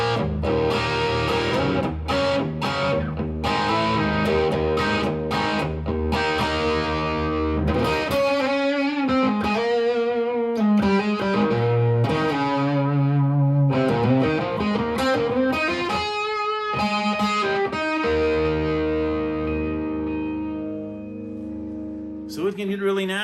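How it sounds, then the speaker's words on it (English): Electric guitar through a Blackstar HT 20 Mk II tube combo amp with mid-gain distortion, playing chunky chords and riffs, loud and continuous with no voices. "It's a great old arena rock kind of sound, kind of a mid-level distortion"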